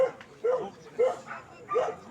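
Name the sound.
German Shorthaired Pointer dog barking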